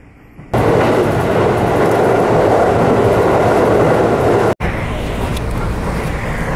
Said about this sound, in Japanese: 列車は前橋駅を出発